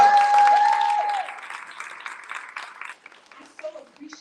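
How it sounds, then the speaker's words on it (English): Applause from a conference audience at a Medicare for All gathering, a dense wash of clapping that fades over several seconds, with a voice speaking over the start. "Give yourselves another round of applause"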